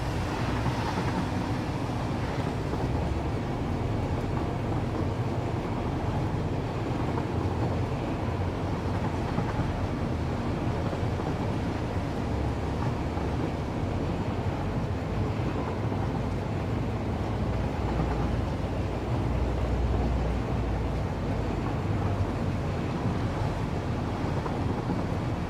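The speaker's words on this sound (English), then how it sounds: "let's dismantle the train" A train running in the factory-building video game Satisfactory gives a continuous, steady rumbling roar at even loudness throughout, with no talking.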